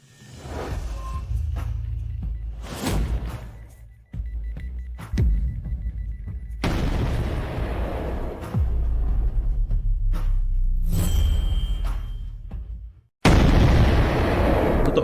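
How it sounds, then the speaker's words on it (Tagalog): Car explosion in a drama scene, several heavy booms and bursts separated by brief gaps of silence, ending in a loud blast. "Totoo nga, sumabog ito."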